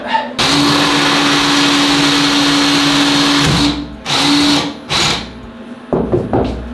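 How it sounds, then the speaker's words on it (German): A power drill whines loudly and steadily as it bores through tiles on a floor during a shower enclosure installation, then cuts out into short bursts, with a few voices in between. "Oder gehst du nur durch die Fliesen mit dem Bohrer?"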